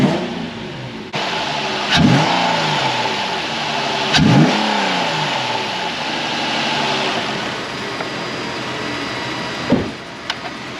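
A 2009–2012 Infiniti FX35 3.5-litre V6 revs up sharply from idle in three distinct throttle blips, each climbing and falling back, with a steady running idle between them, close and loud.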